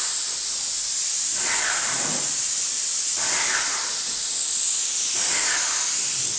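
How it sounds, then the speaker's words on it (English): A paint spray gun laying down a coat, giving a steady loud hiss with three rhythmic swells as each pass sweeps across the surface, no talking. "Always keep the spray fan 90 degrees to the surface."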